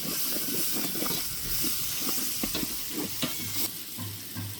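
Tomatoes sizzle and fry in a pan for chicken biryani as a spoon stirs them, a steady hiss close by with scattered scraping clicks, no voices.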